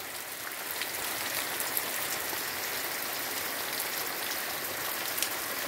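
Heavy June rain pours down in a dense, steady hiss, with faint scattered drip impacts and no voices.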